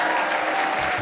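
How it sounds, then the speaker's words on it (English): A brief burst of steady crowd applause for a contestant at a live game-style show, dense and even throughout the short moment. "Big round of applause for Alan."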